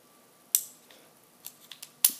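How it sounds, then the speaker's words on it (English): Scissors snip into a cardboard box during a Halo 5 Xbox unboxing, with two sharp close cuts and a few softer rustles and clicks between them, and no talking. "Now, the professional scissors."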